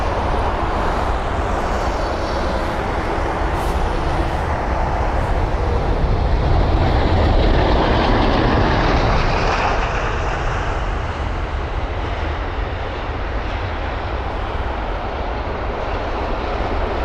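A jumbo jet at London Heathrow gives a loud, steady roar of engines that swells around the middle and holds as broad rumbling noise, with no talk over it.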